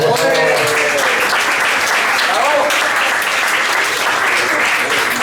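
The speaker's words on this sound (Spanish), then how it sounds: "Un aplauso para Paulo Escacho" An audience at a live event applauds Paulo Escacho with sustained, dense clapping. A voice carries over the first few seconds, then the clapping continues alone at an even level.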